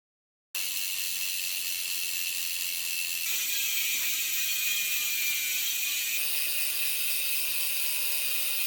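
A Shimano 510 rear hub freewheel on a carbon fiber Polygon XC race bike ratchets steadily, a fast, even stream of fine clicks heard up close and alone, with the pitch shifting slightly as the wheel spins.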